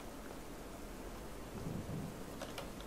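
Thunder rolls in the Slender Mansion video game, a low, steady rumble with a rain-like hiss throughout, fairly faint and continuous, with a few small clicks near the end.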